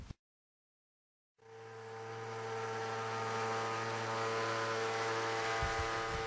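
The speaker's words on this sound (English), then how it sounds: "What you are witnessing is a 200 kilowatt resonant pile driver installing an AZ13 pair into dense sands that are saturated" A 200 kilowatt resonant pile driver drives a pair of AZ13 steel sheet piles into saturated dense sand, starting abruptly after a brief silence and holding a loud, steady droning hum with strong tonal harmonics.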